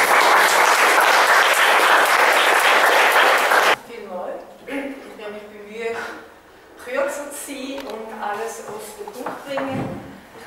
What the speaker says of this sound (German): mit einem herzlichen Applaus zu begrüßen